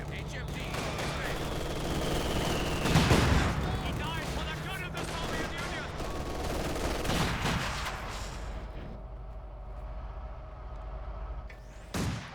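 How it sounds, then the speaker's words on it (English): Dense bursts of machine gun fire rattle through a Company of Heroes 2 battle, with a sustained fusillade layered over other combat noise before it thins out near the end. "after your machine gun reveals itself like that"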